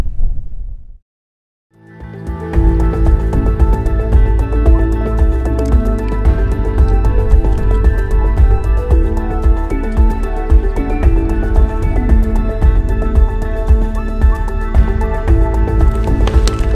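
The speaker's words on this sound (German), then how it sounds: "Unsere Maultaschensuppe hier, die blubbert schon so richtig hoch." Pot of Maultaschen soup boiling vigorously on a beach by a river, a dense, continuous near bubbling and gurgling that starts after a brief silence and then holds steady and loud, with no talk.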